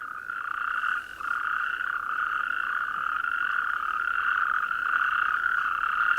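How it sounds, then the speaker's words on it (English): Natterjack toads call at night from a spring waterhole in a dense, continuous chorus of rolling, high-pitched trills, loud and unbroken, with no voices. "These are natterjacks"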